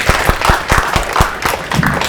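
An audience at a launch event claps in sustained applause, dense steady clapping filling the room, loud and close.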